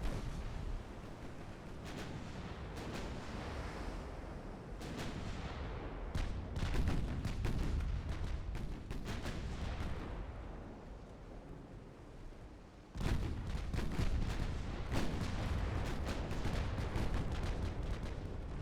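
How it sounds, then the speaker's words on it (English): Six-inch secondary naval guns fire in rapid, repeated booming volleys in the warship game Ultimate Admiral Dreadnoughts, loud blasts overlapping with rumbling battle noise, briefly easing before another heavy barrage erupts. "Those secondaries are devastating. 6-inch secondaries."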